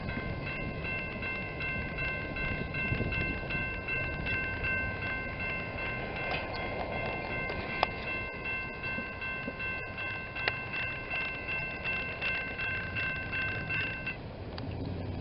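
A train rolls past a railroad crossing, its steady rumble and wheel clatter running continuously under the ringing crossing bells, with a few sharp clanks.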